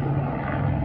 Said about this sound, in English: I've got a helicopter flying by, so hopefully it won't interfere with the sound on this.